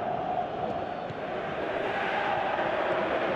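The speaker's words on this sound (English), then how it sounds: "Crowd appreciates good football all round there." A stadium crowd in the football video game PES 2018 sends up a continuous, fairly loud roar of cheering that swells gently across the moment, with no commentary over it.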